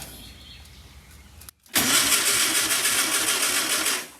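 An old VW Beetle engine with a weak coil or distributor cranks over, a faint mechanical whir giving way after a brief gap to a loud, rapid, rhythmic churning of the starter that runs for over two seconds before stopping.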